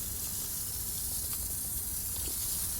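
Foam cleaner sprayed onto the frame of a Jeep TJ to clear road salt, a steady, faint, hissing spray that runs continuously without pause.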